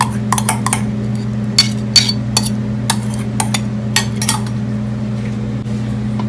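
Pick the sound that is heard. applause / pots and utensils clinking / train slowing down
pots and utensils clinking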